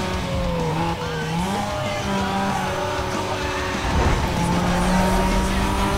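Racing cars in Need for Speed Most Wanted roar steadily with rising and falling engine pitch and tire squeals, loud and continuous throughout.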